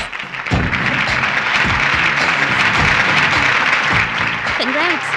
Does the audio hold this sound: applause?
yes